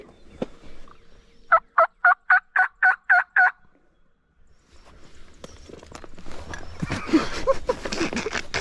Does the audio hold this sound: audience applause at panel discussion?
no